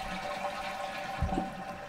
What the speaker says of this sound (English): It'll flush the toilet, the flapper will close back in, seal around the base